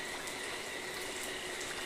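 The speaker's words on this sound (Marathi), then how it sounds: "8:30 वाजलेत आणि पाऊस आलाय." Light night rain falling steadily, a soft continuous hiss and patter heard alone at low volume without any voices.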